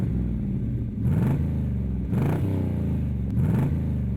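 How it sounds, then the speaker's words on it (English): A red Intermeccanica Italia Spyder lightweight with a 5.7-liter Ford V8 and Anza twin exhaust runs in a loud, deep rumble, rising in three repeated revving bursts with some mechanical clatter, and no voices. "the sound from the Anza twin exhaust pipe system lets the car freak shiver pleasantly"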